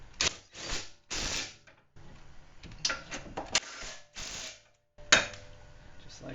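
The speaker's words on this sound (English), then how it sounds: "I am going to use the impact, but I'm not going to drive it in all the way" An impact wrench drives lug nuts on a Chevrolet Malibu rear hub during a hub install. Several short, loud, rattling bursts are separated by brief pauses, with clicks and handling noises in between.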